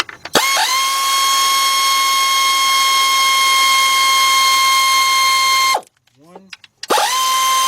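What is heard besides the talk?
ratchet removing 12mm bolts from an engine bracket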